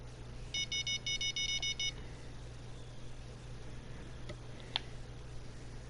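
In the fishing game Fishing Planet, an electronic bite alarm gives a quick run of high, evenly spaced beeps that stops after about a second and a half, over a low steady hum, with a few faint clicks afterward.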